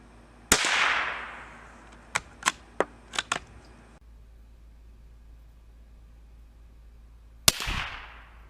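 A .22 LR CCI Mini Mag hollow point round is fired at a 25-yard target of wet newspaper: two sharp, loud reports about seven seconds apart, each with a short ringing tail, and a quick run of crisp mechanical clicks between them.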